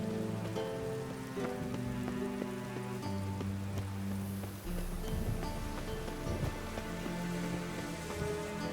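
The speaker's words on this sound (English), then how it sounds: "The rain will cleanse the city streets of filth." Steady rain falling on city streets in the video game Witcher 3, a continuous soft patter under tonal background music, fairly quiet, with no talk.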